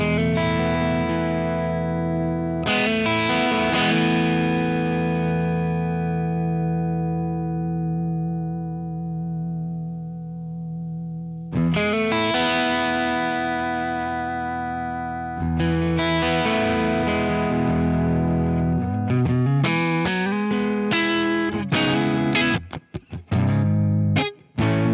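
Electric guitar through a vibrato pedal set to the wet signal only: sustained chords waver with a subtle pitch movement, then ring out, followed by busier strummed passages and a few choppy stabs at the end.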